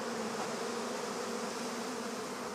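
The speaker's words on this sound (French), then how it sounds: "Les abeilles noires ont évolué au fil des siècles pour s'acclimater à l'environnement" Black honey bees on the island of Groix hum in a steady, continuous buzz. The swarm sounds quiet and moderately distant, with no voices over it.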